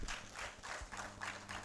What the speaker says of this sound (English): Thank you very much for that clap